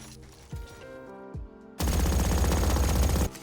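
Sustained automatic gunfire in Valorant, a dense continuous burst lasting over a second as rounds wallbang through a pillar, preceded by a couple of brief thuds and faint game sounds.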